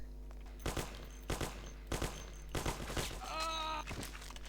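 Gunfire in the video game Mafia: The City of Lost Heaven, with about five sharp shots spaced roughly half a second apart over a low steady hum, followed by a brief tonal sound near the end.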